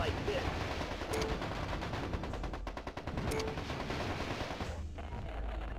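Battle mechs firing weapons in MechCommander Gold, dense rattling machine-gun style bursts with scattered sharper shots, continuous and fairly loud, trailing into a lower rumble near the end.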